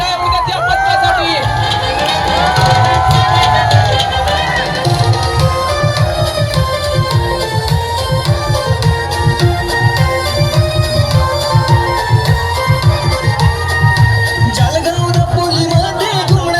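A large crowd at a Govinda pathak's Dahi Handi event cheering loudly after the troupe forms an eight-tier human pyramid, with continuous roaring, whistles and excited shouts over a thick, steady bed of crowd noise.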